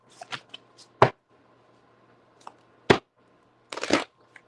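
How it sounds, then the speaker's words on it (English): Cards riffled in a quick shuffle while a tarot reading for Taurus gets under way, giving several short papery bursts with brief pauses between them over a faint steady hum. "Let me get a quick shuffle."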